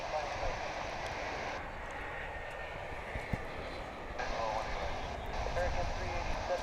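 Cargolux and Singapore Airlines cargo jets at DFW International Airport give a constant broad jet-engine roar that swells slightly toward the end, while people talk over it.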